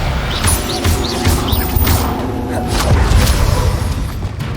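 Confringo explosive curse spells fire in the video game Hogwarts Legacy, repeated booming impacts with whooshing magical chirps and tones, loud and close over a dense rumbling battle bed, no talk.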